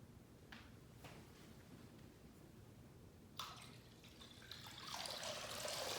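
Tap water runs for hand washing during a Maundy Thursday church service in 2020, entering abruptly halfway through after quiet room tone and swelling into a steady, close splashing stream.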